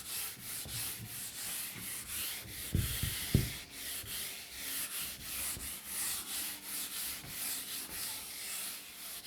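A teacher rubs writing off a classroom board with an eraser, producing repeated rhythmic scrubbing strokes that are close and steady, with a couple of firmer knocks partway through.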